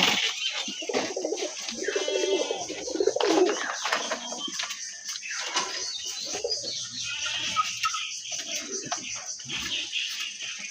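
Red Lal Chilli pigeons coo in a loft, low rolling throaty calls repeating close by over a busy background of flapping, shuffling and faint chirps.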